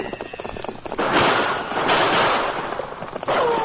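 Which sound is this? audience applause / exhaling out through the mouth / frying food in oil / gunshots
gunshots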